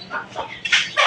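Native breed chickens cluck in short bursts, with several brief calls close by and the loudest toward the end.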